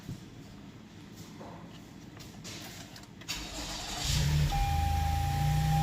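A Toyota Highlander engine, just fitted with a new fuel pump, cranks and starts, catches with a jump in level and settles into a loud, steady run close by.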